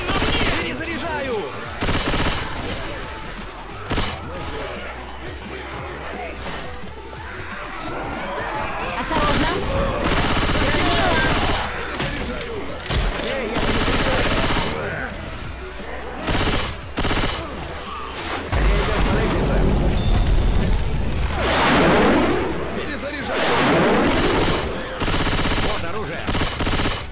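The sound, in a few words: gunfire and shooting in a video game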